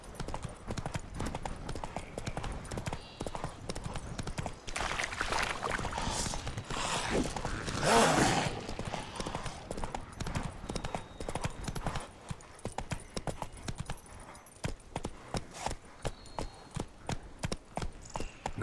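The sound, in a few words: horse Roach galloping, video game The Witcher 3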